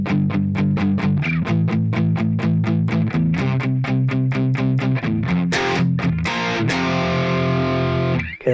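A loud distorted electric guitar plays a chugging power chord riff, repeated chords in steady rhythm, ending on a ringing sustained chord.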